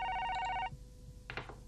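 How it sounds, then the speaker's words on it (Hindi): A telephone rings with a loud electronic trill that stops after a short burst, followed by faint knocks and handling sounds in a room. "साबिर का फोन होगा।"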